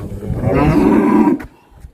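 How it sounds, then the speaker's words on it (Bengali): A cow near Tumling in the hills lets out one loud, close, drawn-out low moo lasting over a second, then falls quiet with faint outdoor background. "গরু আবার ডাকছে ওর বন্ধুদের"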